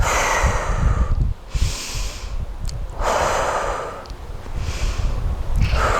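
Deep, rhythmic breaths move in and out through the nose during a yoga stretch, each long inhale and exhale close and loud, with a short pause between cycles.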